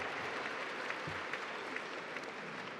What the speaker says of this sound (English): give yourselves a round of applause for being a part of 40 years of history